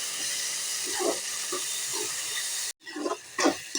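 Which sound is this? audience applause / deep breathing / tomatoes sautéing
tomatoes sautéing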